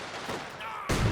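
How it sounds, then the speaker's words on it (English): A rifle grenade lands in the Company of Heroes 2 video game and bursts with a sudden loud blast near the end, following a short stretch of quieter battlefield noise. "Rifle grenade in."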